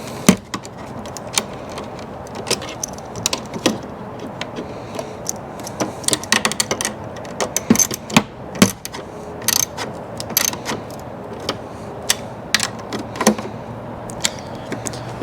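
A hand ratchet clicks in short bursts while tightening the bolts of Rizoma Stealth mirrors on a Yamaha R7 fairing, with close, crisp pawl clicks and small metallic knocks scattered across the clip.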